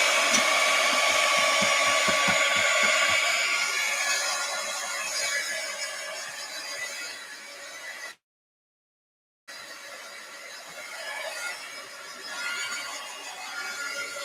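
A hair dryer blows over a damp journal page, a steady close whir with a tone that shifts slightly as it moves, cutting out briefly before running again.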